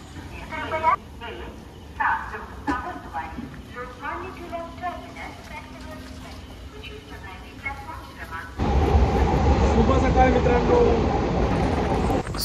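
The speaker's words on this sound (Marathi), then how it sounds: "रत्नागिरी रेल्वे स्टेशन आलं आहे आणि अर्ध्यापेक्षा जास्त ट्रेन खाली झाली आहे." A Ganpati special night train on the Konkan Railway stands at Ratnagiri railway station. Voices talk first, then a loud, steady broadband rumble of the train sets in and holds to the end.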